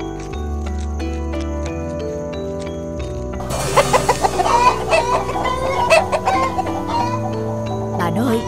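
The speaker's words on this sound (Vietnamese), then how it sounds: "hình như nhà mình có chuột bắt gà" Chickens clucking in a farmhouse setting at night, with sharp cackling bursts and a rooster-like call rising over music from about three seconds on, fairly close and loud, with a voice also present.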